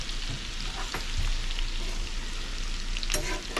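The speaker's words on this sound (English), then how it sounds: "Let that garlic get going in the oil just a little bit" Two spoonfuls of garlic sizzle steadily in hot oil for crawfish pasta, a close, constant hiss broken by a few sharp stirring clicks, with no talking.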